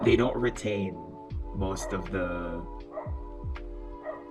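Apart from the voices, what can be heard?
neighbor's dog barking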